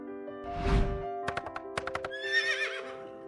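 A cartoon horse whinnies in a high, shaky neigh, followed by a quick run of hollow clip-clop hoof knocks and a second bright whinny, all crisp and close over soft background music.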